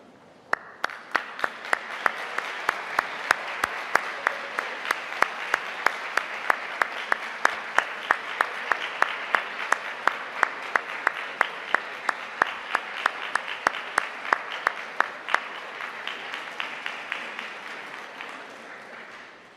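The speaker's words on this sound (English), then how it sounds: "let me ask you to stand and face your family and friends and applaud them" Medical school graduates at a Liverpool University graduation ceremony applaud their families and friends in a large hall, a long, sustained roar of dense clapping punctuated by regular sharp, loud claps close by.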